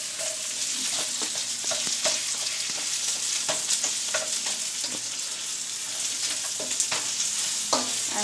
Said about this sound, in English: And just saute everything on high heat.